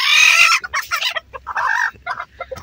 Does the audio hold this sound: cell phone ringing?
no